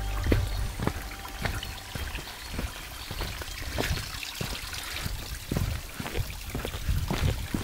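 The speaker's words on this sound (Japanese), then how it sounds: "いやめっちゃ川だ。" Water runs down a mountain trail on Mt. Takao like a small stream, a steady close trickling and splashing with scattered drips and the crunch of footsteps throughout.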